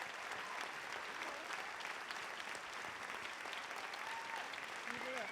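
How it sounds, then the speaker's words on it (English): Sustained applause from an audience at a live performance and storytelling event in Whittier, Los Angeles, a dense, even roar of clapping with crowd voices mixed in, heard from a distance. "Another round of applause for our performers and our storytellers."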